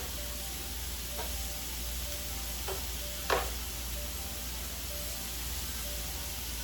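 Shrimp seasoned with Cajun spice and Old Bay sizzle on a griddle in a steady, soft hiss, with a few faint clicks and one sharper knock partway through.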